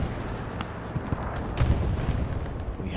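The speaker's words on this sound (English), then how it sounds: "We have a successful bombing run." Bombing run explosions in the World War II shooter Hell Let Loose on the Omaha map: a dense, continuous rumble of booms and distant blasts with sharper impacts mixed in, loud and sustained throughout.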